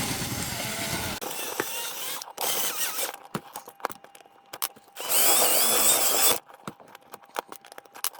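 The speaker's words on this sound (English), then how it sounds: "Now I'm just going to drill everything" A handheld drill bores and enlarges holes in steel plate for a 1/14 scale CAT 973K model, whining in several separate bursts of varying length with short pauses between.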